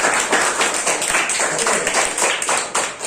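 A classroom of students claps their hands together in a dense, steady burst of applause that fills the whole few seconds, loud and close, with a voice faintly under it.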